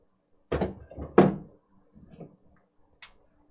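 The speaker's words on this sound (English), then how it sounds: "Unplug the hot glue gun. Carelessly throw it aside." A hot glue gun, unplugged and carelessly tossed aside, lands with two close, solid thuds, followed by a few faint small knocks and clicks in an otherwise quiet room.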